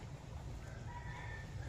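A lone chicken clucking and crowing outdoors on a drizzly day, faint and distant over a steady background hiss.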